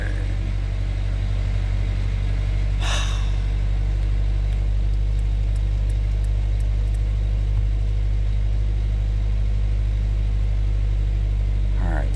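A Splash Sport Danger Ranger car engine running just after its first start with a correct ECU, a steady low rumbling idle close by, with a brief sharp noise early on and no talk.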